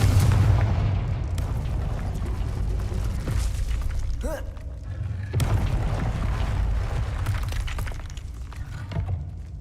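Confringo fire spell explosions in the Hogwarts Legacy video game: loud booming blasts with shattering crashes, one burst following shortly after another over a continuous rumbling background.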